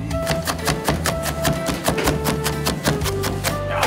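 Rapid, steady knife chopping of onion finely on a cutting board, crisp evenly spaced thuds repeating close up without pause.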